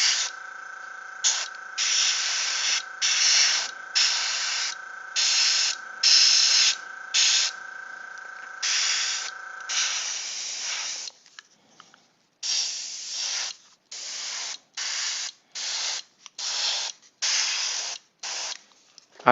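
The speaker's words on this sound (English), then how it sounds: "it's way more fun to do it with an airbrush" An airbrush sprays paint onto Knight Models miniatures in a long series of short, close hissing bursts of about a second each, separated by brief pauses. A steady tone runs under the first half.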